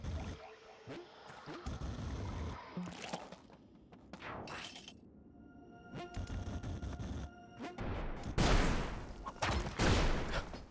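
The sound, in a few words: explosion in a video game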